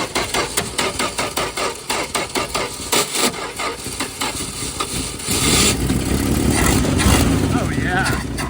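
A 1967 Plymouth Barracuda V8 running with no exhaust system, loud and raw, with a choppy uneven idle that surges into a sustained roar, close up, with a voice speaking over it.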